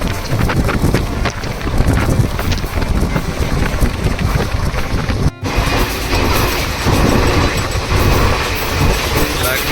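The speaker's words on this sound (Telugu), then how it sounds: "మనం చెల్లపల్లి వెళ్ళిపోతున్నాం ట్రైన్లో, కృష్ణ ఎక్స్ప్రెస్లో." Krishna Express passenger train running fast, heard as a steady, loud rumbling roar with wind buffeting and rattling that continues throughout, with a brief dip midway.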